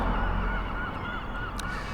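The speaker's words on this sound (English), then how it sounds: "oh look, a whole load of seagulls taking up" A flock of seagulls calls in honking, goose-like cries that rise out of a steady wash of outdoor background noise, continuous and fairly loud throughout.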